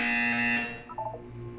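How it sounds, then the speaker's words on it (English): A harsh electronic buzzer from the video game Portal 2 blares steadily for about half a second, then cuts off into a few softer tonal blips. "You will hear a buzzer."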